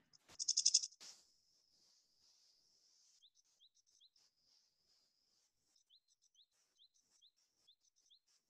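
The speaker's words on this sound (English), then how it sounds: "So here is the song of the sedge warbler." Sedge warbler song: a loud burst of scratchy notes at the start, then a long run of thin, high, rapid chirps and trills going on softly without pause, with no talk.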